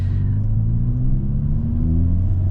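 A 2023 Hyundai Kona N engine under way, a steady, loud in-cabin rumble and drone that holds fairly even, with a slight rise in revs and no talking.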